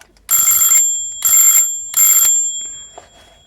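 A doorbell module rings out in three loud, evenly spaced electronic chimes with bright ringing tones, each lasting about half a second, followed by a faint click.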